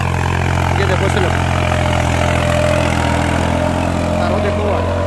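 A tractor engine runs steadily in fourth medium gear with its wheels slipping, giving a constant, loud, low drone with a rough chugging texture and no pauses.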